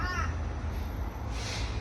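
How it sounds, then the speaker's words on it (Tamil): A crow caws faintly outdoors over a steady low rumble of background noise. The brief call is heard once or twice. "காக்காவும் கத்துது"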